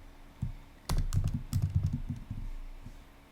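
Keys clack on a computer keyboard in a short, quick burst of taps, close and fairly quiet, with a few scattered strokes on either side of the flurry.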